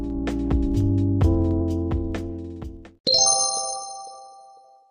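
A melodic electronic ringtone plays a run of chiming notes, then a brighter, higher chime rings out and slowly fades.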